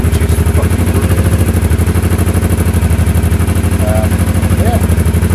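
An Aprilia Shiver motorcycle engine runs steadily close by with a loud, even pulsing throb and mechanical clatter. It holds a constant idle-like beat, with faint tonal chirps passing in the background.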